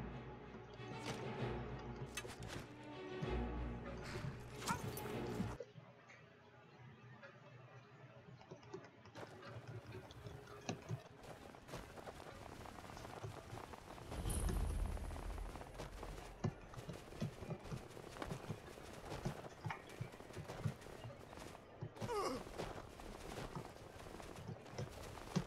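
Horse hooves clop in the video game Skyrim during a long gallop. The quick thudding footfalls repeat in an uneven rhythm alongside other game sounds, with a brief quieter gap partway through.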